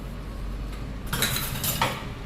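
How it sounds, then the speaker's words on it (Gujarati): Peri peri pasta is mixed in a pan, with a few close metallic scrapes and clinks of a utensil against the pan over a low background hum, and no talking. "હવે બધું મિક્સ કરી દેવાનું પાછું."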